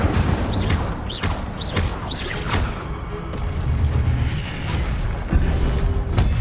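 Incendio fire spell bursts in Hogwarts Legacy, a series of rumbling whooshing blasts with booming low roar, repeated several times close and loud over game noise.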